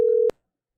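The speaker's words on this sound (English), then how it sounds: "Let me know if you can hear it ringing." A single short telephone ringing tone on a call sounds once, clean and steady for under half a second, then cuts to silence.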